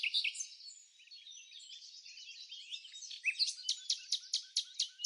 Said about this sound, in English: Let's meet the red-billed Quelea, the most numerous bird in the world.